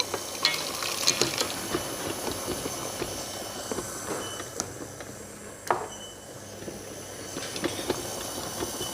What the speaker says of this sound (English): that's about it for the mixing. Just use a spatula just to make sure everything's fairly well combined